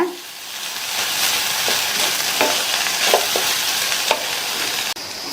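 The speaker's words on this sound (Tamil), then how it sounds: "சேர்த்துட்டு நல்லா ஒன்று போல மிக்ஸ் பண்ணி விட்டுக்கோங்க." A spoon stirs a beans stir-fry mixed with a ground peanut mixture in a hot pan, giving a steady sizzle with scattered scraping knocks and clicks close by and no talking.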